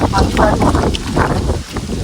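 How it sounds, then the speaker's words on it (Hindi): Strong wind buffets the microphone continuously outdoors beside a parked Thar near a petrol pump, a loud steady rumbling roar with gusty swells throughout. "क्या हवा चल रही है भगवान"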